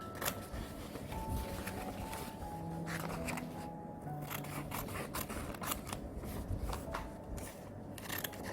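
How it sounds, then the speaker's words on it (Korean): Scissors snipping through hanji, Korean paper, in a series of crisp, close, repeated cuts with soft rustling of the sheets between them, no one speaking. "안쪽이랑 겉쪽 한지 그대로 잘라주세요"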